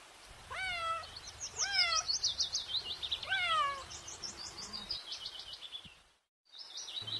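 A cat meows three times in quick succession, fairly close, with bright chirping birdsong running underneath and continuing after the meows.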